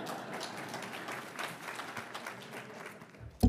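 Audience applause in a lecture hall during a talk on the 2022 midterm elections: steady, fairly quiet clapping from a crowd lasting a few seconds, ending with a louder close thump.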